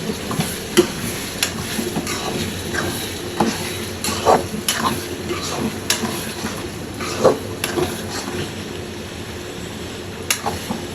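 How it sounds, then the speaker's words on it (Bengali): Fish being stirred in hot oil in a cooking pan, with a steady sizzle of frying and repeated scraping and clinking of a utensil against the pan, close and continuous. "ধনে পাতাগুলো দেওয়া হলো নাড়াচাড়া করে এবার নামিয়ে নিবি"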